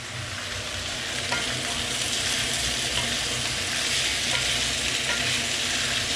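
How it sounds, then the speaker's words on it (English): Chunks of beef searing in a hot pan for a Catalan-style beef stew, giving a steady, close, dense sizzle that runs unbroken throughout with no voices. "Basically sealing the meat once you're stewing it so that the juice don't go out."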